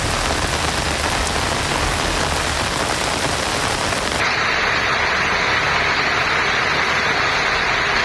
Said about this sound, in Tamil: பல்வேறு பகுதிகளில் கனமழை பெய்தது